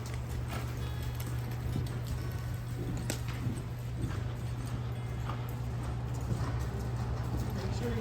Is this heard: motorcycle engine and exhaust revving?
no